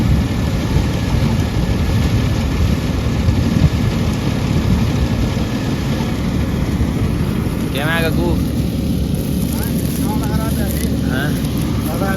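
A tractor engine runs in a field during straw making, a loud continuous low rumble with a windy roar over it, and someone talks briefly partway through.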